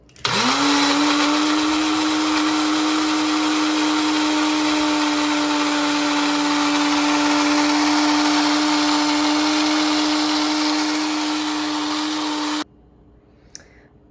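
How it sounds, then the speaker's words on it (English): A Ninja blender purées liquids and herbs into a dressing with a loud, steady high whir that holds for about twelve seconds and then cuts off abruptly, leaving near silence. "All packed in, screwed on the lid, and I'll just blend until combined."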